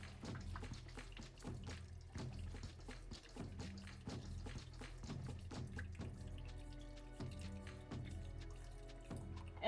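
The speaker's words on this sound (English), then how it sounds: "And then you rinse your dentures." Dentures being rinsed under a running tap in a sink, a steady close splashing stream of water with small irregular splats as the denture moves through it, no voices.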